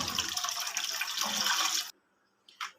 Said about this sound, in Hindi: 1 लीटर इसमें मैं दूध डाल लूँगी।